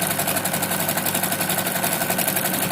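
A sewing machine stitches a fabric mask in one continuous run, a rapid, even mechanical chatter close to the ear with no pauses or talking.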